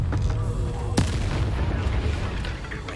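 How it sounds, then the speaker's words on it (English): Incendio flame spell cast in the video game Hogwarts Legacy, a burst of gamey fire and impact noise with a sharp crack near the first second over layered battle sounds and a low rumble. "the flame spell is so short. It's a very short range. Incendio."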